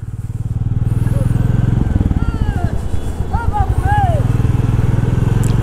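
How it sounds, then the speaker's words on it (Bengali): Two Royal Enfield Classic 350 motorcycles ride along a road with a loud, close, steady thumping engine drone, a rider's engine throbbing throughout under wind noise. "এবার দুটো বাইক এগিয়ে যাচ্ছি খড়গপুর রোডের দিকে"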